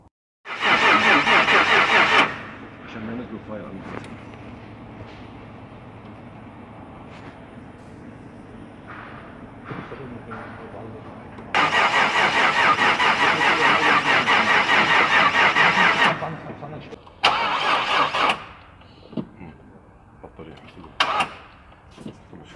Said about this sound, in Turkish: Şu anda aracın marşına basacağız arkadaşlar.